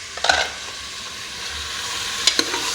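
Ginger and garlic fry with beef tripe in a hot wok, giving a steady close sizzle with a couple of brief stirring scrapes and clinks, no voices.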